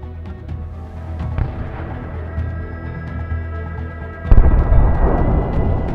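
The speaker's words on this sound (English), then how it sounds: "The explosion caused significant damage" A loud, deep blast from a drone strike on a stationary target erupts partway through after a steady low rumble, followed by a dense, crackling roar that lingers.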